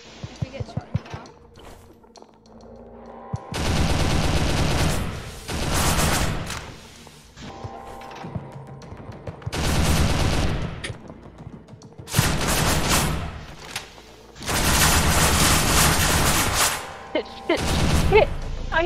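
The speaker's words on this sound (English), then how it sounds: "Bloody shot me through the wall." Bursts of automatic gunfire in an SCP roleplay video game come in several long, loud volleys separated by quieter gaps where players talk.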